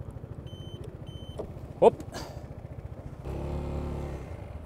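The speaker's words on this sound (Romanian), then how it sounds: "O să pornim motorul." A Piaggio MP3 Yourban maxi-scooter engine starts. A few short electronic beeps and a brief shouted word come first, then the engine catches and settles into a steady, close idle.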